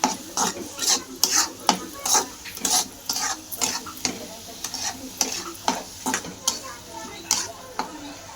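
Onion, garlic masala, red chili powder, salt and turmeric fry in oil in a pan for a Marathi-style spicy matki curry, with repeated scraping stirs at a steady rhythm over a soft sizzle, close and moderately loud, no talk.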